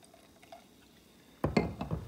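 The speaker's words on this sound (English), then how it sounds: "I'm going to pour my pink champagne." Pink champagne poured into a glass after a quiet lead-in, a sudden splashing, fizzing stream that stays close and fairly loud for the last half second or so, with no one speaking.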